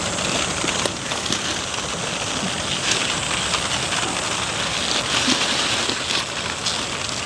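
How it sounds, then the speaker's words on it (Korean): Sudden rain pours outdoors in a rural garden, a steady dense hiss of drops drumming on surfaces throughout, loud and close with no pauses. "갑자기 비가 내립니다"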